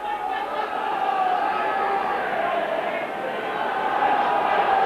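Rugby league crowd at a St Helens versus Featherstone match roaring a steady chant for the Saints, a broad, sustained mass of voices with tonal rises, heard at a distance and unbroken throughout.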